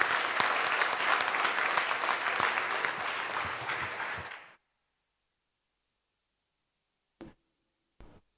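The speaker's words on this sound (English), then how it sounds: "Soumya Da, General Secretary of ABOC, to the dais with a big round of applause." Audience applause welcomes a speaker to the dais at a conference, a dense, steady round of clapping that stops abruptly after about four seconds, leaving silence broken by two faint knocks.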